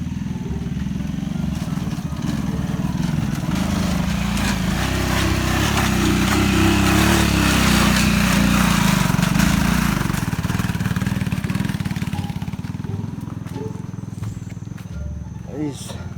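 A motorcycle engine runs steadily on a forest trail while descending from a farm, a loud continuous low rumble that swells mid-clip and eases toward the end, with people's voices over it.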